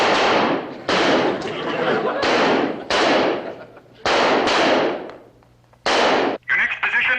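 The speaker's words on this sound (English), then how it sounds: "Assume the position and fire when ready." Rifle shots on an outdoor shooting range, with crowds of loud sharp blasts in quick bursts separated by short pauses, firing in the standing position, loud and close.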